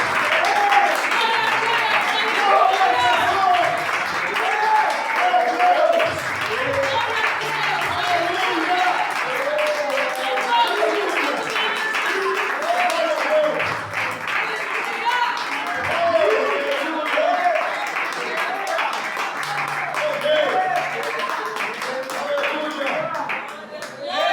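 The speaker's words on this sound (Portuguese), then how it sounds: "Você que tem as palavras, aplauda o Senhor." A church congregation applauds in steady, dense clapping that runs unbroken for over twenty seconds, with voices calling out now and then beneath it.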